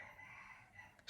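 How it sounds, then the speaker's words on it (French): Roosters crowing in the morning in rural Thailand, faint and distant against a steady hum of background noise, with no voices. "Est-ce que vous entendez qu'il y a les coqs qui chantent de ouf et qui nous réveillent?"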